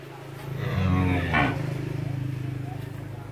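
A cow at a breeding cattle farm in Vinh Long lets out one long, loud, low moo close by. A steady engine-like hum runs underneath and continues after the call fades.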